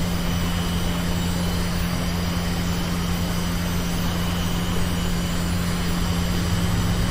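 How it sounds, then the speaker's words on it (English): An attack helicopter engine in VTOL VR runs with a steady, loud turbine whine and a constant low hum, droning unbroken throughout. "I got the left engine on, we've got to put the right engine on now."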